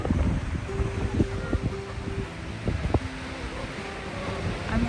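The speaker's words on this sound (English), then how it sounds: "Yeah, it's really windy." Strong wind gusting across an open homestead, a steady broadband roar with buffeting and rustling throughout, loud and close, with microphone wind noise and no clear speech.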